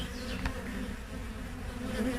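Honey bees buzz steadily at an open hive while larvae are being inspected, forming a dense, close droning hum with no pauses and no talk over it.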